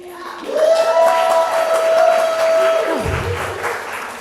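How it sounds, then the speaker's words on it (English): An audience at a poetry reading breaks into loud, sustained applause and cheering, with a high sustained whoop riding over the clapping before it ebbs at the end. "And even as we are breathing at the end of that last beautiful reading, we are applauding Gloria, who is approaching the stage."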